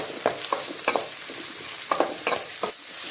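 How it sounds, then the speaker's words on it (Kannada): Small onions frying in hot oil with mustard seeds for pumpkin sambhar, a continuous sizzle punctuated by several sharp scrapes and clacks of a spatula stirring in the pan, close up. "ಇವಾಗ ನಾನು 2 ಸ್ಮಾಲ್ ಸೈಜ್ ಈರುಳ್ಳಿನ ಹಾಕ್ತಾ ಇದ್ದೀನಿ. ಈರುಳ್ಳಿನ ಚೆನ್ನಾಗಿ ಫ್ರೈ ಮಾಡೋಣ."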